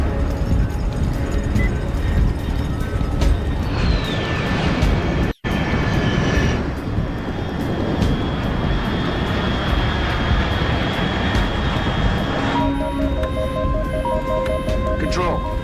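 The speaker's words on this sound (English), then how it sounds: "Control, unidentified aircraft detected." An aircraft engine roars overhead in the video game Metal Gear Solid Delta: Snake Eater, a loud, steady rumble that holds for the whole stretch with a brief dropout partway through.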